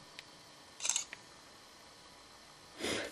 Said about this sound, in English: Yep, and we're ready to take another picture.